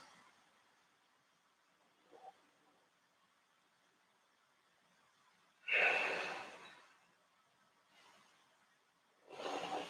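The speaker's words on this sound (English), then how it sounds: "3 deep breaths" During a yoga session, a few slow, deep breaths are drawn and released close to the microphone, each a long airy whoosh separated by quiet pauses, with a faint sniff early on.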